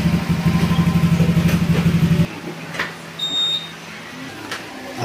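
A Honda Click 125 scooter engine, freshly overhauled with oil just added, runs with a rapid pulsing idle for about two seconds and then cuts off, leaving quiet background with a few faint clicks and a brief high tone.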